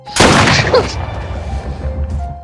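A single loud, sharp blast bursts out near the start, then rings and rumbles away into a fading echo.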